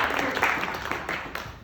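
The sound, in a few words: clapping for a guest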